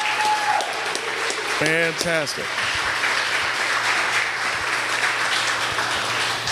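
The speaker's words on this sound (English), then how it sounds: "Can we get a round of applause?" Steady audience applause fills a room at a candidate event, a dense, continuous patter of many hands that carries on throughout while a voice speaks briefly over it near the start.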